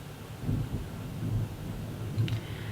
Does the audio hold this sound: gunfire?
no